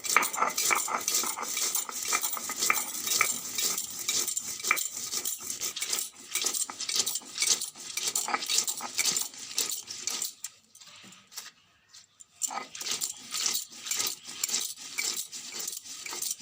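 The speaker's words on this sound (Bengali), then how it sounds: "এটা খুব ভালো করে বেটে নেব কাঁচা লঙ্কাটা আর সর্ষেটা" Mustard seeds and green chili are ground by hand on a grinding stone, making a quick, rhythmic run of gritty scraping and clacking strokes up close. There is a short pause near the end before the grinding resumes.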